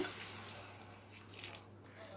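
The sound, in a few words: water poured into cooking pot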